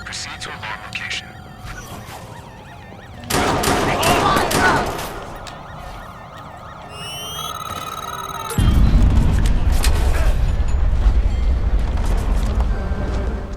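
Gunfire in the Watch Dogs 2 video game, loud bursts of shots and booms in a busy game mix, with police radio voices and other talk running through it.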